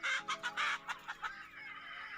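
Domestic chickens give a quick series of loud, close clucks in uneven bursts, then trail off into softer calls over a steady background hum.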